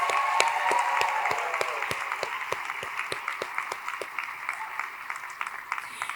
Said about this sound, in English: let's give a round of applause to all of our nominees